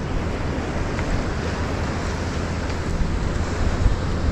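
Ocean waves breaking on a beach at Lido Key, a steady, dense roar of surf with wind buffeting the microphone and no voices.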